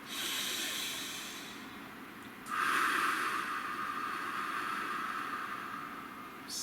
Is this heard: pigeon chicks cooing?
no